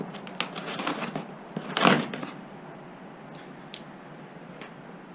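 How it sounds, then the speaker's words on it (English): Tape is ripped and pressed onto a box in a workshop while a Fisher XV2 snowplow lift piston is swapped, a burst of crackling tearing peaking briefly, then quiet room noise with a few faint ticks. "Use some good tape on this box."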